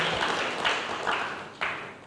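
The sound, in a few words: congregation applause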